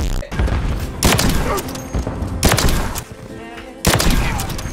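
Bursts of gunfire from a competitive first-person shooter ring out in four loud, sharp volleys, each followed by a ringing tail, with no talking in between.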